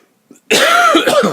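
A single loud, harsh cough bursts out close up after a brief quiet moment, with a rough, throaty tail.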